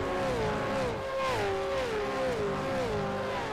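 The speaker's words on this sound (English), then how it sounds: "Jeez, the car sounds good." Race car engine in an iRacing simulation of a V8 Supercars championship round, a steady loud onboard drone rising and falling in pitch as the driver shifts and works the throttle through corners.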